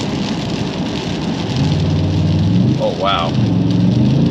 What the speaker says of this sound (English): Hear that TRD exhaust just screaming.